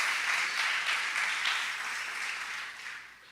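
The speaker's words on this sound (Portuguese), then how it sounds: "Aplaude Jesus pela vida deles." A church congregation applauding, with dense clapping that holds steady and then slowly fades toward the end.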